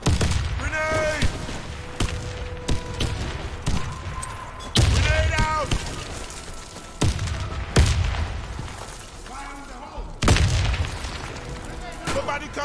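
Repeated loud explosive booms and gunfire bursts crash through a round of a first-person shooter video game, a grenade blast among several sharp impacts, with shouted voices in between.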